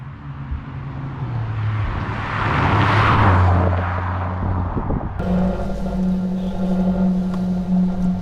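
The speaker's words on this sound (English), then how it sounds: "So we are in my 2018 Alfa Romeo 4C. She is Pogea Racing tuned to 300 horsepower" A 2018 Alfa Romeo 4C Spyder, tuned by Pogea Racing to 300 horsepower, drives with its engine note rising to a loud surge of acceleration, then settling into a steady lower drone as it cruises.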